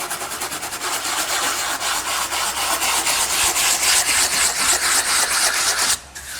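A sanding block rubs at a 45-degree angle along the edge of a concrete countertop, giving steady, close scratchy strokes in a fast back-and-forth rhythm for several seconds with no talking.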